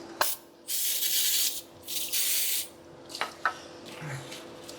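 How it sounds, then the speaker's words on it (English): Bursts of aerosol lubricant sprayed onto a dump truck's U-joint during a repair, two sustained hissing blasts close up, followed by a few light metallic clicks and handling noises. "Also going to spray some of this on there"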